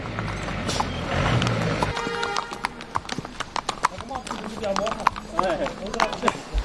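A horse walks a mountain trail, its hooves clip-clopping in a steady close rhythm with a brief whinny-like sound, while a person talks alongside.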